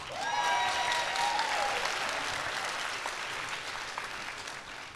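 Applause from an audience at a company promotion ceremony in Atlanta, dense clapping that is loudest at first and slowly thins, with a whistle or cheer rising over the start.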